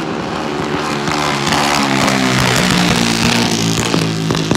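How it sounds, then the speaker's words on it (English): Outlaw junior dragsters race down a drag strip, their small engines roaring loudly and steadily with shifting, buzzing revs that hold at a constant high level throughout. "Here comes some junior dragsters."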